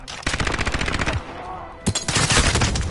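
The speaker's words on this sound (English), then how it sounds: "I'm getting shot." Rapid automatic gunfire from a shooter video game, loud and close, a dense burst that pauses briefly before another volley resumes.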